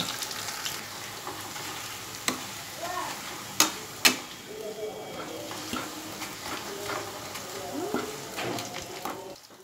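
Spinach frying in oil in a wok for a crunchy snack: a steady, moderately loud sizzle throughout, broken by a few sharp clicks and pops, with faint voices in the background.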